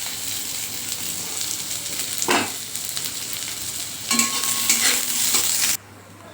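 Chopped onion sizzling as it fries in a pan with toasted whole spices, a steady hiss broken by scraping bursts as it is stirred, close and alone before cutting off abruptly near the end.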